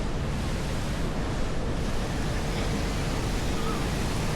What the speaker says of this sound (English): Fountains galore.